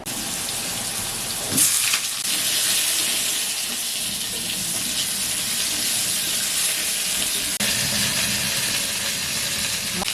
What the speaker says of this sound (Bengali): ভাজা হয়ে গেছে বেগুনগুলো ভেজে নেবো